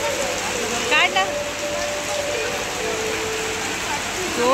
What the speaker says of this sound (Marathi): जोरदार पाऊस सुरू झालेला आहे.